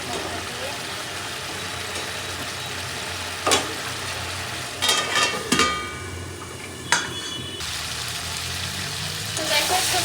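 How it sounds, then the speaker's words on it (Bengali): Potatoes fry with spice paste in a pan, a continuous close sizzle broken by several sharp spatula knocks and scrapes against the metal. "মশলাটা কষানো হতে থাকবো"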